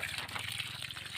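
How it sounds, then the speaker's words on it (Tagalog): Irrigation water flowing steadily on a farm, a continuous broadband gushing rush close by, with no pauses through the short stretch. "So ito yung tubig na daloy ng tubig namin mga ka-farmers."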